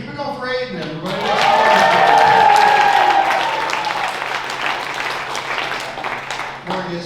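Applause at the Laugh Camp comedy club for comedian Aiden swells from a scattered start into a full burst of clapping with a whoop or cheer. It then tapers into lighter, thinning claps.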